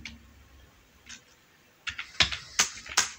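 JavaScript code is typed on a computer keyboard in short, uneven bursts: a few isolated key taps early on, then a quicker run of sharp, close clicks toward the end, with no talking.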